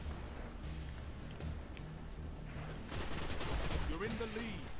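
Rapid gunfire and a headshot in the sci-fi shooter video game Destiny, a dense burst of shots running loud throughout with a louder stretch near the end, while a voice talks over it.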